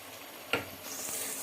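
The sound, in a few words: chicken frying in a pot for Sindhi biryani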